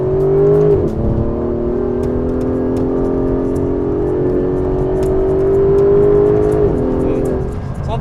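A 600-horsepower Aston Martin DB11 with an all-new 5.2-liter twin-turbocharged V12 pulls hard through the gears, a steady loud engine drone heard from inside the cabin, with pitch climbing and dropping at gear changes.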